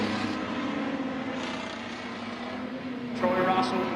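Street stock race car engines at a heat race on a speedway, a steady, fairly loud roar with a rise near the end, heard under a commentator's continuous talk.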